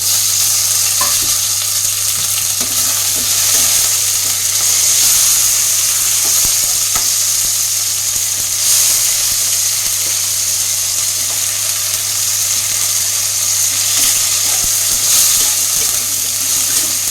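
Chopped tomatoes frying in a pan alongside lightly fried fish, a loud, unbroken hiss of sizzling oil with occasional faint stirring scrapes and a low steady hum beneath.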